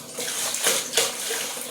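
Water splashing and sloshing while laundry is hand-washed, a continuous close wash of water with two louder splashes, no talk.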